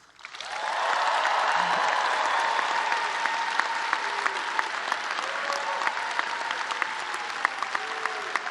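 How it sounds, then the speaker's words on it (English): An audience at a new student convocation and family welcome applauds resident advisors with loud, sustained clapping that swells within a second and carries on steadily to the end. "Let's give a cheer for our resident advisors."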